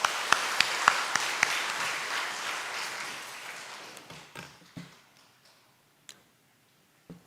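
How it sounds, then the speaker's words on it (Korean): Church congregation applause during a Sunday service, a burst of clapping with a few sharp distinct claps early, gradually tapering off into scattered last claps and near silence. "박수 주시기 바랍니다"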